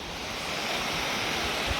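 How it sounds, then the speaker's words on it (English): A waterfall seen from a height gives a steady, broad rushing roar, constant and fairly loud, with no voices over it for a brief moment. "have a look at the waterfall"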